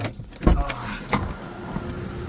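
A car door thuds shut, followed by a second clunk as the car locks and a light jangle of keys, close by over low outdoor background noise.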